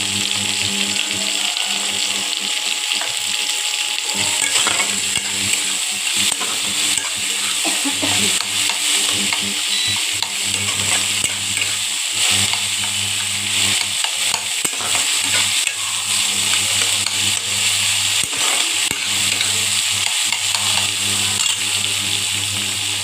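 Sour curd being whisked hard with chili, garlic and ginger pastes, a continuous rapid scraping and clatter of a whisk against the bowl, close and loud, under a constant background hum, with no speech.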